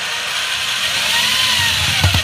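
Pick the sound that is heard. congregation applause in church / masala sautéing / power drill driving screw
power drill driving screw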